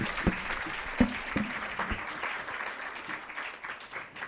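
Audience applause at a French conference round table, a roomful of hands clapping steadily with a few sharper claps standing out near the start, fairly close and continuous throughout.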